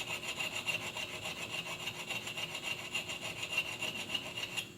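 A small metal file rasps back and forth through a slot in a workpiece, a steady rapid scraping stroke repeated evenly throughout, close and fairly loud with no talk.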